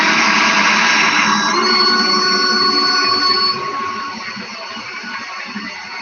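A handheld power drill twisting something, running as a loud, steady high-pitched whine with tonal lines, easing slightly softer toward the end; no one speaks over it.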